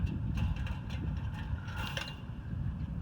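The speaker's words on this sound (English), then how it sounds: "I'm trying to take off these springs here, and you can see I'm just bending these little metal pieces back off" Small metal crimps on a 1960s truck bench seat spring are bent back by hand during a Dodge Power Wagon restoration, producing faint close scraping and ticking clicks over a steady low rumble.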